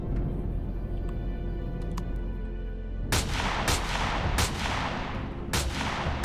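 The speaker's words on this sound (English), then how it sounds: "I think it has some minor machine gun type stuff." Gunfire in the space survival game Empyrion: Galactic Survival, a handful of loud broadband bursts arriving irregularly in the second half over a steady hum of engine drone and music.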